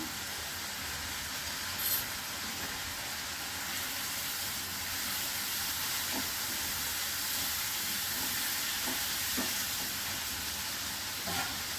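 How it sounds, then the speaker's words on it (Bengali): Spices with turmeric and salt fry in a pan, giving a steady, fairly faint broadband hiss with a few soft ticks and no voices. "এবার একটু ভাজা হবে।"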